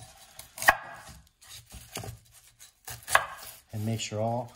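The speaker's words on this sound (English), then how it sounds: "What we're going to do is we're going to half them" A knife halves onions on a cutting board for French onion soup, making several sharp, separate chops close up, with a person talking between them.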